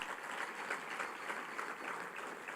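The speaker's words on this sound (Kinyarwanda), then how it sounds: "Muyiha amashyi rero." Steady applause from a church congregation during a sermon on forgiveness, a continuous even patter of many hands held at moderate volume throughout.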